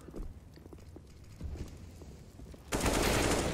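Gunfire during a professional Counter-Strike match, FURIA versus Heroic at IEM Global Challenge 2020: scattered sharp shots and short bursts, then a loud, dense burst of fire near the end, with no commentary over it.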